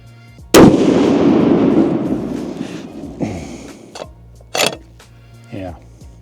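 A single loud, close 28 Nosler long-range rifle shot with a TriggerTech trigger and titanium action, firing a 90-grain round, booms and rolls away in a long decaying echo, followed by a few softer thumps and clicks.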